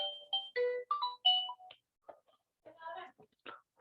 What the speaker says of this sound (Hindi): फोन कर रहा है, पता नहीं क्यों